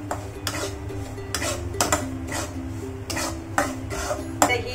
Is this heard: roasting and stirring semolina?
yes